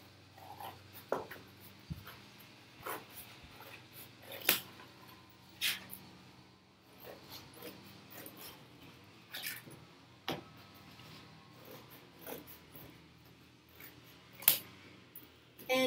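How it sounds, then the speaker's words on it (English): Scissors cutting through cereal box cardboard to trim off one long side, a sparse series of close, crisp snips and crunches at irregular intervals with quiet pauses between them. "I'm just going to cut one of the long sides off"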